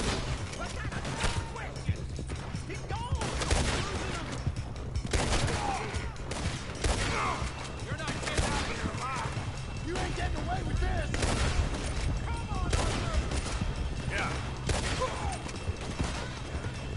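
Dense, sustained gunfire from the video game Red Dead Redemption 2 crackles continuously at close range, layered shots piling over one another for the whole stretch, with a voice talking underneath.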